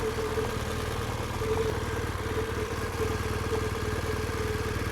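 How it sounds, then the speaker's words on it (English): A motorcycle engine idles steadily and close by, left running during a dismount in a riding skills demonstration. It makes a continuous low throbbing rumble with a regular pulsing beat and no talk over it. "Go ahead and leave the motor running."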